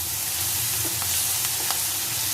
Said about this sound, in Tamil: இப்போ இதை நல்ல மிக்ஸ் கொடுத்துட்டு இது சிம் டு மீடியம்லேயே வச்சு இது வந்து நல்லா வதங்கணும்